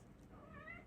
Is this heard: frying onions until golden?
no